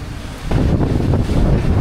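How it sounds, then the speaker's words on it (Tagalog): Strong wind in Daet buffets the microphone in a steady, heavy roar that grows louder halfway through, with no voices. "lakas po ng hangin"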